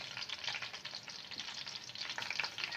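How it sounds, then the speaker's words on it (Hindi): Garlic ginger paste fries and sizzles in oil in a pan, a dense crackling hiss with light stirring scrapes throughout, close and continuous. "लहसुन अदरक का पेस्ट शामिल करके इसको थोड़ा सा इसके अंदर हम मिक्स करेंगे"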